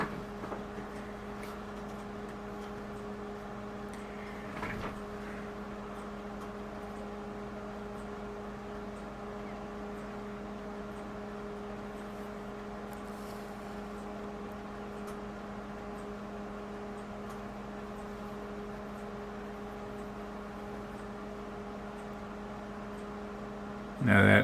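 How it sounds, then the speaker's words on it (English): A steady low electric buzz from a microwave oven hums throughout at an even level in a nearby kitchen, with no clear talk. "that noise you hear buzzing in the kitchen, that's my microwave oven."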